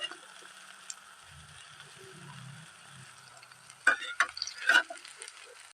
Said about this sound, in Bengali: দেখো, খুব সুন্দর করে বড়াগুলো হচ্ছে, এগুলি আমি লাল লাল করে ভাজবো।